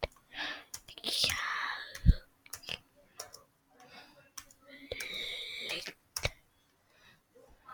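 Computer keyboard typing comes in irregular bursts of quiet, close clicks and taps, interleaved with soft whispered speech.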